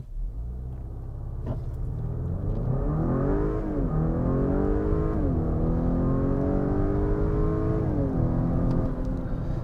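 A 2022 Acura RDX A-Spec luxury SUV's turbo engine pulls hard under full acceleration, its rising harmonic drone climbing through several gear shifts at a steady, loud level with no talking.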